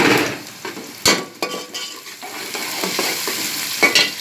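Chicken fries in garlic ginger paste with a steady sizzle, stirring and occasional clinks of a utensil against the pan, close and continuous throughout.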